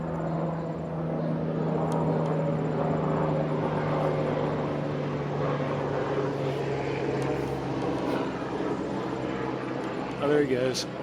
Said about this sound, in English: We also get a lot of helicopters.